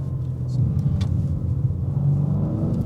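BMW M car engine rumbling with a steady deep low drone, close and continuous, with faint road noise and a brief sharper sound partway through.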